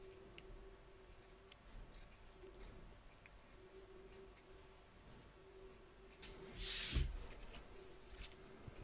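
Faint scissor snips trim fabric close around machine embroidery stitches, a few soft, scattered cuts heard up close in a quiet room, with one louder rustle near the end.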